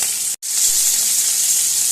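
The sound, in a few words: sea fish frying in oil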